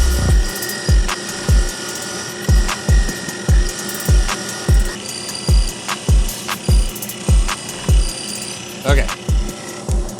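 Metal lathe turning an engine block ring with a carbide insert, giving a loud, close, rhythmic series of cutting thumps about twice a second with a faint ringing tone, and a brief spoken word.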